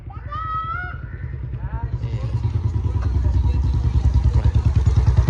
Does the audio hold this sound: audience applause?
no